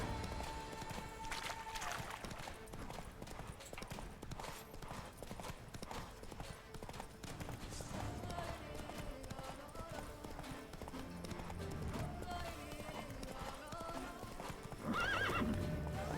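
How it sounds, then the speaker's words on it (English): Horse hooves clip-clop steadily across terrain with neighing and whinnies in The Witcher 3: Blood and Wine, a continuous trotting rhythm under game music and faint ambient sound. "it's much easier to get across on your horse"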